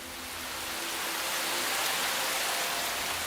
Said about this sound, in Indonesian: hujan tuh langsung turun gede banget